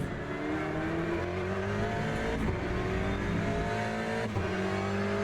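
A race car engine in the Le Mans Ultimate sim racing game drones steadily at high revs, bouncing off the rev limiter, with a few brief dips in pitch. The engine is continuous and moderately loud with no voices.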